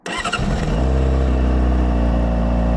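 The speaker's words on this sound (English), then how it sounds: "We're starting the bike now." A Honda CBR600RR motorcycle engine cranks over with a few quick starter pulses, then catches and settles into a loud, steady, close idle.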